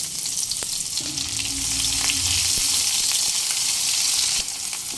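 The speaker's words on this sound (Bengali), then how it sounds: "তেল গরম হলেই দিয়ে দেবো কোয়াটার টিস্পুন কালো জিরে আর মিডিয়াম সাইজের একটা কুচিয়ে নেওয়া পেঁয়াজ" Nigella seeds and a chopped medium onion fry in hot mustard oil, giving a loud, steady, close sizzling hiss that runs unbroken with a few faint stirring knocks.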